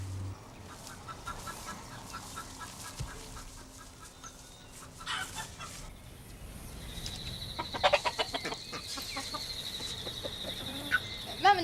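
Bantam chickens clucking in a backyard, scattered quiet clucks early that grow busier and louder toward the end, with repeated close calls and some squawking.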